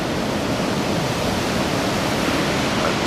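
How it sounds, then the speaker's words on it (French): Continuous roar of ocean surf at Anglet beach, with powerful, fast, closing-out waves of about two to two and a half metres. The broadband rush is steady and fairly loud, with no voices. "avec des vagues entre 2 mètres, 2 mètres 50 sur les séries moyennes"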